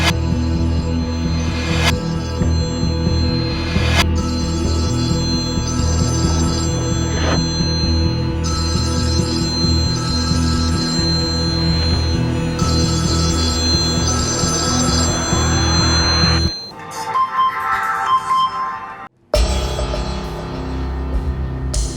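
A telephone rings on and on without being answered, its repeated bell bursts sounding over a steady background, then cutting off near the end.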